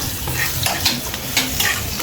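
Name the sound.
onion and garlic frying in oil, being stirred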